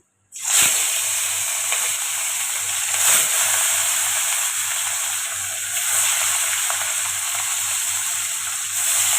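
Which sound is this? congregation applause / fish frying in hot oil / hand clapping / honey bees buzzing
fish frying in hot oil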